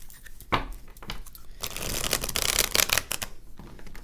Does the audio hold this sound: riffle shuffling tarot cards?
yes